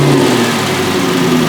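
Budget supercar bought from Temu, its engine running loud and close with a steady revving drone that rises slightly throughout, no voices.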